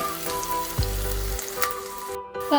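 Onion, ginger and green chilies sauté in a pan for a Kerala-style ivy gourd and fish dish, giving a steady close sizzle with a brief louder burst of stirring midway and no talking.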